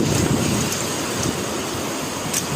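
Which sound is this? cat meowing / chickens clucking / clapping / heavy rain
heavy rain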